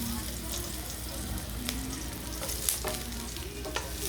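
Onions frying in a pan for pansit, stirred with a utensil, give a steady close sizzle with scraping stirs throughout; a voice murmurs faintly in the background.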